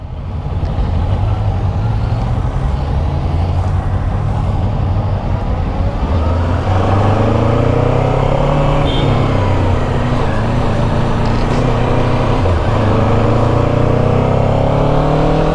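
A Kawasaki Ninja 7 Hybrid motorcycle is ridden and accelerates, its engine note climbing and shifting through gears in loud, close rising sweeps with wind noise.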